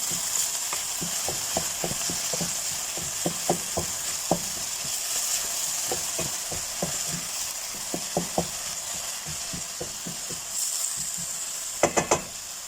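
Pancit bihon ingredients with oyster sauce frying in a pan, with a steady hiss of sizzling under repeated clacking scrapes of a utensil stirring, close and continuous with no talk.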